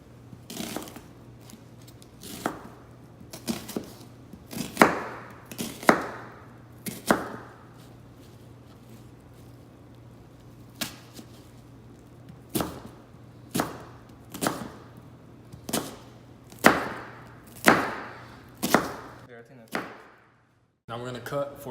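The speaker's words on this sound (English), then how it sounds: "we're gonna finally chop the onion." An onion is chopped with a knife on a cutting board for fried rice, giving sharp, irregular chops in short bursts with pauses between them over a low background hum.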